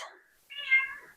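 A house cat lets out a short, clear meow in a quiet indoor room, with a faint chirp just before it.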